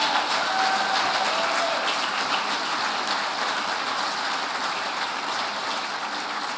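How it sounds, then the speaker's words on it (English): Sustained audience applause at a business awards event, a dense, steady wash of clapping that holds at an even loudness throughout with no speech over it. "Would you join me in a round of applause for him?"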